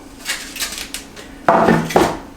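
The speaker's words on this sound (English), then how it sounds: "we're going to put it in our cooking pan, covered in." Food is set into a foil-lined cooking pan sprayed with nonstick spray for an enchilada dinner, giving a few soft clinks and scrapes followed by two louder crinkling thumps of foil and metal, close up with no talk.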